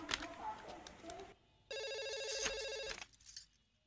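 A phone ringtone plays for over a second, a bright electronic ringing pattern, after some quiet talking and background clatter.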